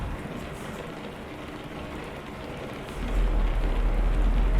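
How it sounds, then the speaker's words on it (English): Rain drizzling against a truck cab in Euro Truck Simulator 2, a steady patter that swells louder toward the end over a low rumble, with no voices. "you get this nice ASMR rain drizzling against the cab"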